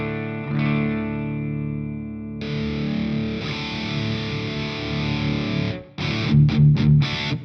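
Electric guitar played straight into an amplifier with no pedal, giving a loud, sustained distorted tone with ringing chords, followed by several short choppy strummed bursts near the end.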